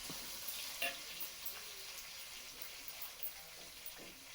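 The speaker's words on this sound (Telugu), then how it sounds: "బాగా వేపుకోవాలి." Green chillies, curry leaves, ginger and carrot pieces fry in a pan with a steady, soft sizzle throughout, broken by a few faint clinks of stirring.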